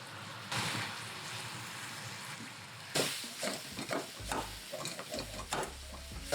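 Garlic and softened mushrooms frying in a pan give a close, steady sizzle, with scraping stir strokes and a few low clunks of the utensil against the pan; no voices.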